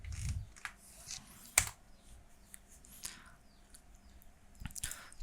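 A computer keyboard clicks softly in a quiet room as keys are pressed to paste and hit Enter, with a few sparse taps and one sharper keystroke standing out against faint background hum.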